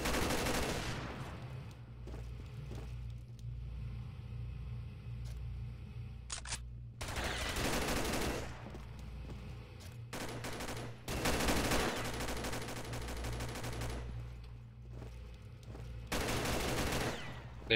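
Bursts of automatic gunfire in a video game, aimed at a player's turret, come in repeated loud volleys over a steady low engine-like hum, with short pauses between strings of shots.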